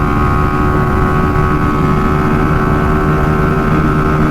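A Suzuki Gixxer motorcycle fitted with a racing CDI roars hard in fourth gear, its engine note a loud, constant drone held close and steady throughout with no talk over it.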